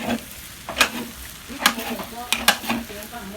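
Fried rice sizzling in a big wok, a steady frying hiss broken by sharp metallic scrapes and stirring clatters every second or so.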